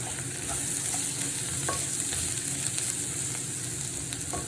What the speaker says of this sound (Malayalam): പൊടിയാത്ത രീതിയിൽ തട്ടിച്ചിളക്കണം